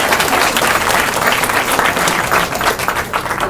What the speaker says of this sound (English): We should give you a round of applause.